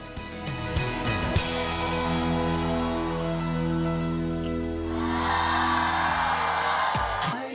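A concert crowd at a Sichuan TV music show cheers and applauds as the headline singer makes his entrance, with two swelling waves of whoops and clapping over a sustained musical backing.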